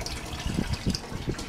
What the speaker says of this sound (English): water from the fish tank into the grow bed.